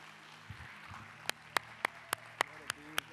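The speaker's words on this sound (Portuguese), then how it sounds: "Queria que você ficasse de pé e aplaudisse Jesus nessa noite." A church congregation, gathered for an evening service, claps for Jesus: about seven sharp, evenly spaced claps ring out in a steady rhythm over a low background hum, fairly quiet overall.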